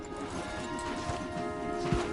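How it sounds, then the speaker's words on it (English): Horse hooves clip-clop on a forest path in the video game Red Dead Redemption 2, a few soft thuds under a steady ambient hum and tonal background, fairly quiet. "We won't get the horses down this path."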